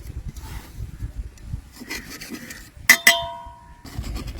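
A knife cuts a cardamom-scented vattalappam pudding into pieces in its dish, giving soft scraping strokes and two sharp clinks of metal against the dish near the end, close and fairly quiet.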